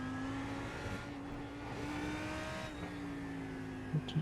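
Lamborghini Huracan GT3 EVO racing car in iRacing at Sebring, engine note dropping through quick downshifts under braking, a fairly quiet, steady mechanical drone with a couple of short bumps near the end.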